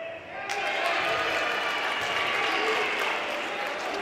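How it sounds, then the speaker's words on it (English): Crowd at a Sauk Valley men's basketball game cheering and clapping in a gym, a loud, sustained roar of applause that swells and holds steady. "if you can listen to this crowd"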